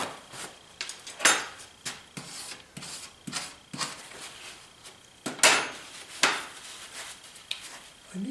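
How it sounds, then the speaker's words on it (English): Metal palette knife scraping and lifting leftover oil paint on a palette, a run of short soft scrapes and taps at an irregular pace, close and quiet, with no talk. "So I'm going to pick it up with old T7 here, palette knife,"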